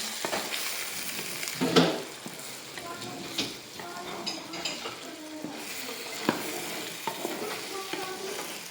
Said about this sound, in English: Lift it up a bit so that the liquid part of the egg can form.